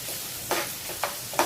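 Onion sizzling in a hot tempering of oil and cumin, stirred with a spoon: a soft steady fry punctuated by three distinct, close scraping stirs at a regular pace.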